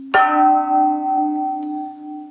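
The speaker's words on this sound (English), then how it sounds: "if I have a smaller bowl, it's gonna sound like this." A smaller bowl from a homemade drum set is struck once, giving a clear bell-like metallic tone that rings on steadily, close and alone.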